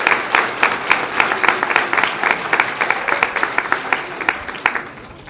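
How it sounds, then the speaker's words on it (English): An audience at a middle school eighth grade recognition program claps for student athletes: steady, fairly close applause with distinct rhythmic claps, tapering off near the end. "Round of applause"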